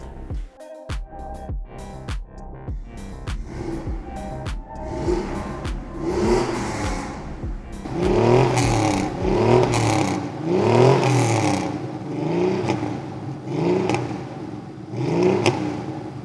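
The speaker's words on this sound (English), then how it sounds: "an angry little buzzy Beetle" A Volkswagen Beetle engine revs in short, buzzy bursts, opening with a few sharp clattering blips and then settling into repeated rising and falling revs, close and fairly loud, with no talk.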